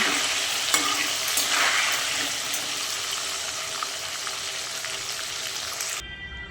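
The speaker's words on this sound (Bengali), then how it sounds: "এবার আলুগুলো আমি ভালো করে ভেজে নেব" Salted potatoes frying in oil in a kadai crackle with a loud, continuous sizzle and occasional stirring knocks, the sound cutting off abruptly near the end.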